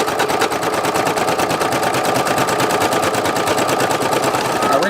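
A computerized embroidery machine stitches a black thread border onto a patch, giving a steady, rapid mechanical rattle of needle strokes that stays loud and continuous throughout, with no voices.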